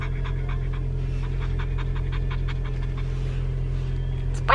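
A small dog pants rapidly and steadily in a car that has just started, the quick rhythmic breaths close and clear over a constant low engine or fan hum.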